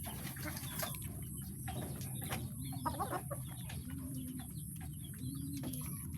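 Backyard pet chickens being fed give soft clucks and short calls that repeat at intervals over quiet background noise, fairly faint and close.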